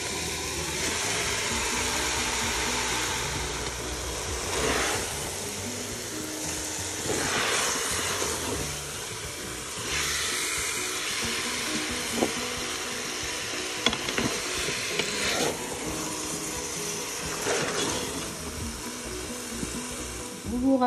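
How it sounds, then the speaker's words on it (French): Overnight-marinated lamb browning in oil with onions inside a Cookeo multicooker, a steady close sizzle and frying hiss that runs throughout with occasional stirring clatter. "Et la viande qui marine depuis hier, que je vais faire dorer"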